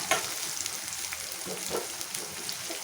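Sliced onions and green chilies sizzle in hot oil in a pan for a Telugu ridge gourd curry, a steady crackling hiss with a few sharper pops and stirring scrapes.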